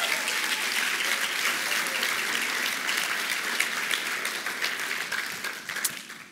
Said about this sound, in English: can we just give a clap for Sharla and Lindsay?